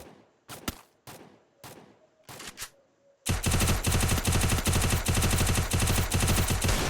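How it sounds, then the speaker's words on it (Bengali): Desert Eagle gunfire in an online shooter game: a few sharp, separate shots, then a sudden loud, continuous barrage of rapid gunfire that fills the rest of the clip. "থর কিন্তু ডেজার্টের হেডশট ট্রাই করতে করতেছে বারবার"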